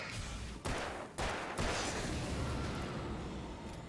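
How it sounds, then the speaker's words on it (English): A flare gun fired in the Alan Wake video game: a few sharp, loud broadband bursts in quick succession, then a sustained roaring hiss trailing off, close and alone with no talk. "I didn't want to shoot a flare there"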